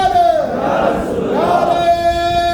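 A crowd at a religious gathering chants a slogan in unison in response to a speaker, a loud, sustained, collective call.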